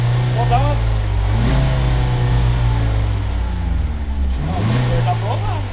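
A 2017 Ford Focus 2.0 Fastback SE Powershift engine held at high revs with a droning tone that dips and climbs again as it hits the limiter, with people talking over it.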